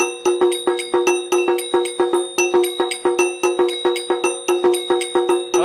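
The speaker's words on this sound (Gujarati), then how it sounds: "આ ઝાલર મશીન લઈને આવો. આનો મધુર અવાજ પેલા સંભળાવું, સાંભળી લો તમે." An electric jhalar bell machine for Ganpati worship rings alone in a fast, steady stream of bright metallic strikes, each ringing tone overlapping the next, loud and close with a regular rhythm throughout.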